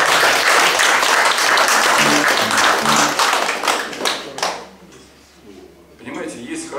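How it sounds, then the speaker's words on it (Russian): An audience applauds with steady, dense clapping for several seconds that thins out and then swells again briefly, with music playing underneath. "Аплодисменты, товарищи."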